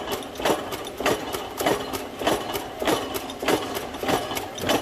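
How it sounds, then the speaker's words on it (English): A press tool perforating many holes in sheet metal in a single stroke gives a run of regular, evenly spaced mechanical thumps about every half second over a constant machine hum. "In this operation, maximum number of holes are piercing in single stroke."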